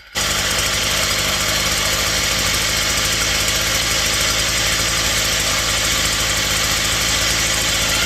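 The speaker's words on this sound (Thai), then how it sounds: "สตาร์ทติดง่ายมากเลย เร่งเครื่องหน่อย" A small engine on an old Japanese three-row rice paddy weeder starts abruptly and runs loud and steady close by, with a rattling, knocking drone that holds at a high idle throughout.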